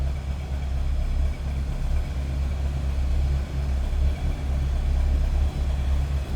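A 1976 Cadillac Eldorado convertible's 500 V8 idles steadily with a low, smooth rumble, close and continuous throughout with no talking.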